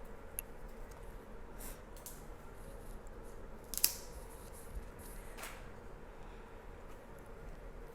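Scissors cutting back the stems of a top-heavy indoor plant give a few faint, isolated snips spaced seconds apart over quiet room noise, with one crisper, louder snip near the middle.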